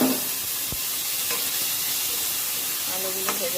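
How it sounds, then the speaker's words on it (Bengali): Potatoes fry in a pan of oil just used for frying fish, making a continuous close sizzle and hiss with a couple of faint utensil clinks and no talking. "আলুগুলো ভেজে নেব।"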